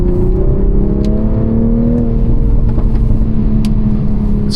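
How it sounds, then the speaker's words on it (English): Inline-six engine of a 2022 Toyota Supra 3.0 droning steadily under load while driving on a rain-wet road, a continuous close whirring rumble with slight pitch changes and no talk. "I find that inline-six sound from this motor specifically feels very futuristic."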